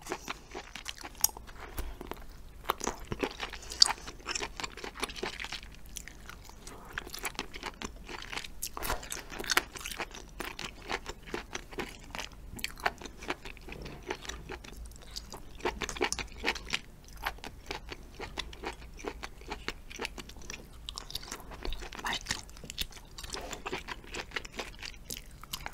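Close-up chewing of gooseneck barnacles, with crisp crunches and wet bites repeating steadily and loud near the microphone, with no talking.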